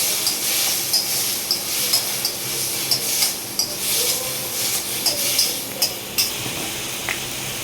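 Tamarind, cumin and chutney ingredients are stirred in a pan, a steady frying hiss broken by regular, rhythmic clinks and scrapes of a spoon against metal, close and moderately loud.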